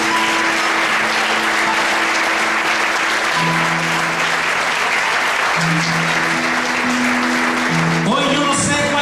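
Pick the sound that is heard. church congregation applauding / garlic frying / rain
church congregation applauding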